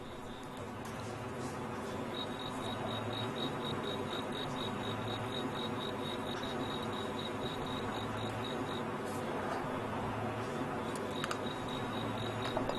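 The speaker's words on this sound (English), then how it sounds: "This is a cricket fighting competition." Fighting crickets at a cricket fighting competition chirp continuously, with a rapid high-pitched trill pulsing through a busy background of insect noise and faint bustle.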